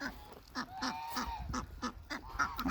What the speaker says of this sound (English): The last 2 nights I've been able to get the geese locked up in the woodshed